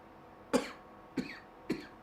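Three separate short coughs from one person, spaced about half a second apart, each a sharp burst that quickly fades, close and quiet against a silent room.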